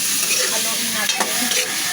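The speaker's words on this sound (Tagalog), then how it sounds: "Haluin lang natin guys." Kaldereta being stirred in a frying pan, with a spoon scraping through the sizzling meat and sauce, close and continuous with a couple of sharper clacks against the pan and no talking.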